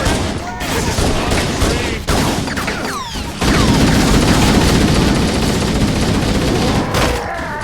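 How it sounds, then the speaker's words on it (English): Repeated UNSC pistol gunfire in Halo CE Anniversary, loud broadband shot bursts fired close in quick succession amid game combat noise, with a brief lull before the firing picks up again and continues steadily. "the Halo UNSC pistol, controversially as strong as a sniper rifle"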